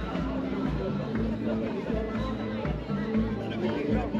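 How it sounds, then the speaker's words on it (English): A crowd at a Thai festival in Ao Luek, Krabi gives off a dense, continuous murmur of chatter with a close voice speaking over the babble and some low rhythmic thumps beneath. "I'm in the crowd now, slowly getting accustomed."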